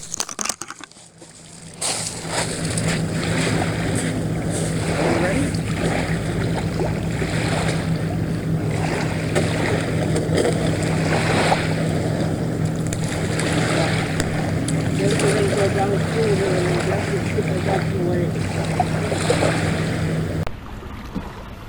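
Canoe pushed off from a grounded shore and moving out on open water, with a steady rushing, splashing wash and wind noise throughout and no clear separate paddle strokes.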